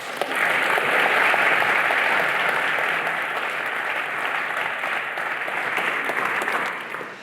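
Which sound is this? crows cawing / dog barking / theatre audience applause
theatre audience applause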